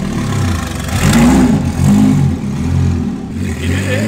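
A Lamborghini Murcielago engine cranks and catches, then revs in loud, rising and falling bursts that stay close and steady for a few seconds.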